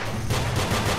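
Gunfire in the video game Nongunz, a quick burst of dense rapid shots running without a break, loud and close, with no voices over it.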